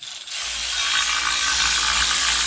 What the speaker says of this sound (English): you're going to need your nice 16 millimeter right here. Put this on. Make sure it's going in forward motion.